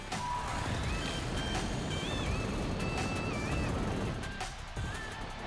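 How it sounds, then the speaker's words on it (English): A WL Toys 144001 1/14 scale RC buggy runs at half throttle, its motor giving a continuous rough whir with a few thin whining tones gliding up and down, close and steady throughout. "Now we're going to turn the throttle halfway."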